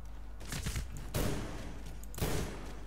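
Gunfire in the shooter game Medal of Honor Warfighter, a shotgun in use: a few dense bursts of firing over a constant roaring battle background, loud and close.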